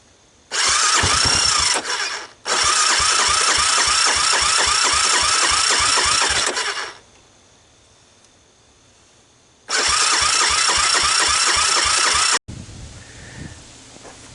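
A 1985 Honda ATC250ES three-wheeler, choke on and run off a portable ignition box, is cranked and catches in loud rattling bursts, stalls, then roars briefly again before cutting out.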